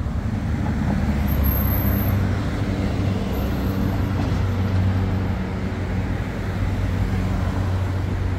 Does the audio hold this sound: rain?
no